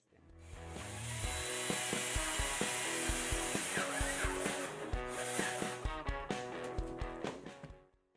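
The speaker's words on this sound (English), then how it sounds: "Now take a screwdriver and drill a small hole on top." Steady grinding and scraping of a screwdriver boring a small hole into the top of a mini portable speaker, continuous and close for several seconds with rhythmic rubbing strokes.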